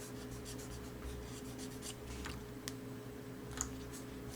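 A pen sweeps in broad strokes while blocking in large shadows on an illustration of clothing folds, giving soft, faint scratching and light taps against a quiet background hum.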